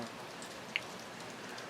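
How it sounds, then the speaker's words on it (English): Steady rain falls outdoors after days of wet weather, a continuous soft hiss of drops with one brief sharper tap partway through. "it's been raining for about 3 days, so that's kind of curtailed my working outside"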